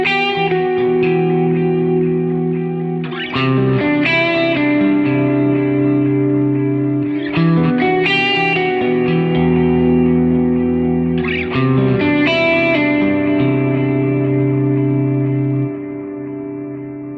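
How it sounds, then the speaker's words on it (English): Electric guitar played through the Amplitube 5 amp simulator, a delay placed before a reverb, rings out as sustained chords and melodic phrases with heavy, washy repeats and long echoing tails, loud and alone. "let's bring in a delay before the reverb"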